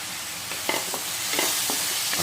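Ginger, garlic and green chili paste fries in a pan with browned onions for jackfruit kalia, a steady close sizzle broken by several short scraping stirs of a spatula, with no talking.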